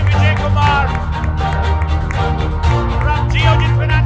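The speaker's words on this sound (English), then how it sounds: "Once again, please put in a big round of applause for Dr. V.K. Vijayakumar" Big round of applause from a conference audience at a financial industry event, rhythmic clapping and some crowd noise running under a loud amplified voice and background music.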